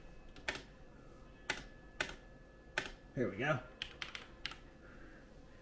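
Irregular taps on an external computer keyboard plugged into an ASUS ROG Strix G15 Advantage laptop, sounding close and crisp with pauses between keystrokes. Someone says a few words partway through.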